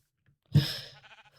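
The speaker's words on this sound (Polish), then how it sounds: "Owca." A Minecraft sheep lets out a single short, nasal bleat after a moment of silence, close and fairly loud, its wavering tail fading away.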